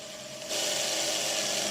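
A drill bores into the wood of an Opinel No. 9 Carbone folding knife handle, a steady close grinding whir that starts abruptly halfway through and runs on alone.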